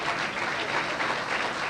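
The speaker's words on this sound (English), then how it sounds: "Give yourself a round of applause." An audience at an Irish fundraiser evening breaks into steady applause, a brief, even burst of clapping with no talk over it.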